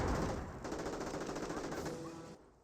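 Rapid machine gun and rifle fire from a World War II battle in the Company of Heroes strategy game, a continuous rattling burst that fades out at the end, with no talk.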